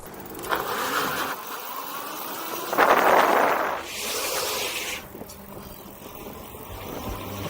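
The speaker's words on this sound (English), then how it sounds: "dual wheel burnouts" An overpowered D-Class Scrambler electric bike does dual wheel burnouts, a loud rushing tire scrub and motor whine that swells, peaks sharply mid-way, then eases off, with no talking.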